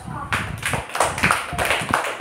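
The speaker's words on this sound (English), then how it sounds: "Claps." Children clapping in a rural primary-school classroom, a short burst of scattered, uneven hand claps that rises and falls over about two seconds, close by and with voices mixed in.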